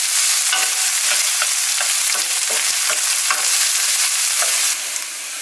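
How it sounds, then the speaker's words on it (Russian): Chopped onion and garlic fry in oil in a pan, sizzling loudly and evenly while a spatula pushes them around in soft rhythmic strokes, then easing slightly near the end. "Сначала бросаем лучок, даем ему немножко подрумяниться, а затем чесночок"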